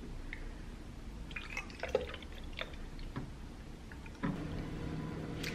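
Distilled water is poured into a facial steamer, heard as quiet drips and small trickling splashes with a soft hiss in the background and a few louder plops near the end.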